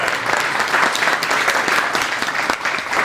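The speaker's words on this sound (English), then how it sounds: "Can you guys give a big, big round of applause?" An event crowd at a network business gathering gives a steady round of applause, many hands clapping densely and evenly for a few seconds with no speech.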